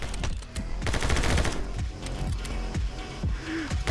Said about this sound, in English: That's my gun sound effect.